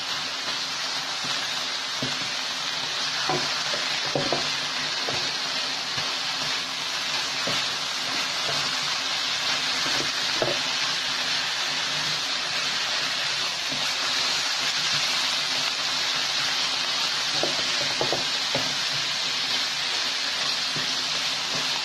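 Ghee, cardamom powder and bottle gourd halwa ingredients frying in a pan with a steady, loud continuous sizzle, punctuated by scattered soft clicks and scrapes of stirring, with no talking.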